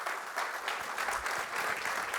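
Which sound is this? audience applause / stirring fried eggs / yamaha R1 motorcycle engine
audience applause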